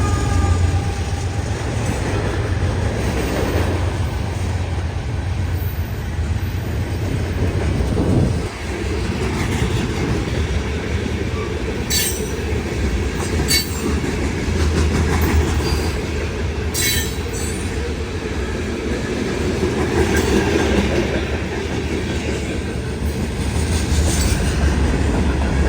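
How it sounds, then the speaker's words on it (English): A heavy freight train hauled by black NS locomotives under BNSF signals rumbles through town, with steady clattering wheels, sharp squeals from the rails and a brief thump partway through. The sound stays loud and continuous the whole way through. "seeing those black NS units rolling under BNSF signals that makes a great scene, along with that heavy, old-school freight sound echoing through town"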